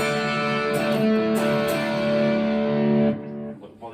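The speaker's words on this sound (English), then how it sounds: "put on a distortion pedal, but not, which is the Harley Benton drop kick" An electric guitar played through a Harley Benton Drop Kick distortion pedal, gain set below halfway, sustains a thick, buzzing distorted chord at steady volume for about three seconds before cutting off, with a few quieter notes trailing after.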